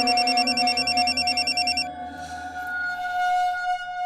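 An outgoing phone call rings back in a repeated pulsing electronic tone, steady and clear, and stops partway through, leaving a quieter sustained tone behind.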